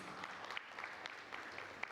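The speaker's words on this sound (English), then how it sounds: "Can we have a huge round of applause for her, please?" A conference audience at a food safety panel event gives a short burst of light, fairly distant applause lasting about two seconds.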